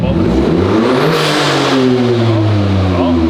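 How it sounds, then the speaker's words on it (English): A Toyota GR Corolla fitted with an MST Performance intake revs hard toward redline. The engine note is loud and close, rises through a quick rev and then holds high with strong harmonics. "now it'll let you rev to red line"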